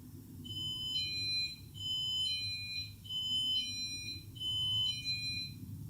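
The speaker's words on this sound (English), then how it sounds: "That's the doorbell alarm going off" A high electronic doorbell alarm beeps in repeated patterned bursts, steady and insistent, over a low background hum, with no voices.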